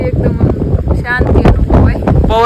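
Wind gusts across Munjiyasar Dam, buffeting the microphone with a steady low roar while people talk nearby.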